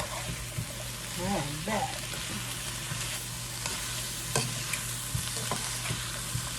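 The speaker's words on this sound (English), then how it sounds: "So we're going to saute these for about 5 to 6, 7 minutes." Vegetables for broccoli cheese chowder sauté in a pan with a steady low sizzle and occasional stirring scrapes, while a voice speaks briefly over the cooking.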